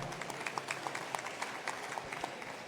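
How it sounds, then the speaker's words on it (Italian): An indoor audience gives moderate, steady applause at a talk event, the individual claps blending into a continuous patter that stays fairly even throughout. "Grazie mille Alessandro, un bel applauso"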